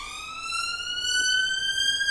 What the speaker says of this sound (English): There you go, police siren. Look at that.